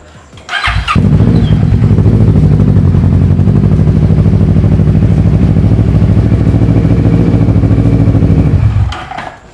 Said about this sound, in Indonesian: Ini dulu knalpotnya nggak berisik, cuma saya ganti.